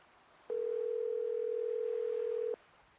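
A telephone rings down the line in a Nancy Drew mystery game as a single steady tone lasting about two seconds, clean and loud, with faint hiss before and after.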